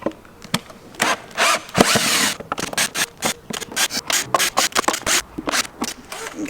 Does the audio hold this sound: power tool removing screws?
yes